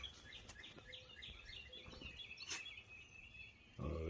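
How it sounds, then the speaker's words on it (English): Spring songbirds calling in the early morning outdoors, a busy overlapping chorus of high chirps and trills at moderate distance, with a brief low thump near the end. "Listening to the spring birds? Let's go listen to the spring birds."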